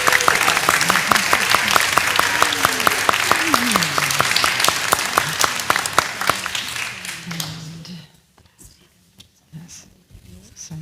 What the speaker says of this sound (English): Oh, we need some more applause.